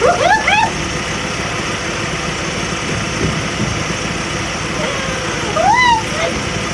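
Van engine idling steadily after repair, a rough continuous low rumble close by, with a person talking briefly at the start and again near the end.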